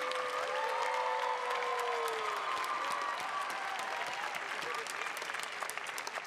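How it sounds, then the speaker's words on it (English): A crowd at the Heinz College 2024 commencement ceremony applauds graduates, sustained clapping with some voices and music tones beneath, steady throughout and tapering slightly at the end. "Please join me in a round of applause for the graduates of the Master of Entertainment Industry Management."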